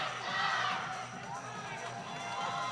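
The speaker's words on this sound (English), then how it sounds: "Our Redeemers crowd making their voices heard." Redeemers crowd cheering and shouting at a basketball game in an auditorium, a loud sustained roar of many voices.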